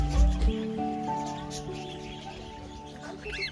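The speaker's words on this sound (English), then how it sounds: "The chirping of these birds stops the noise in your mind." Parrots chirp and whistle in sustained, overlapping tones over a low background hum, moderately close and steady, at a bird park.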